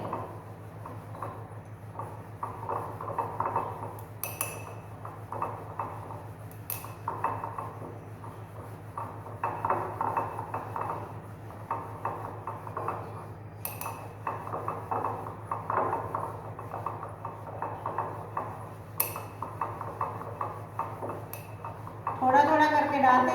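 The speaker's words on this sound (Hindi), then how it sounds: "थोड़ा थोड़ा करके डालते रहिए, साथ साथ अच्छे से टिचुरेट करते रहिए" Magnesium carbonate powder being triturated with a pestle in a mortar, a continuous scraping and grinding rub with occasional clinks, under steady talk throughout.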